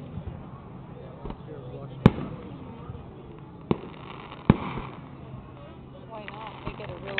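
Fireworks in the Webkinz game for the Fourth of July go off as a few sharp, isolated pops and bangs spaced several seconds apart, over a low background while people talk.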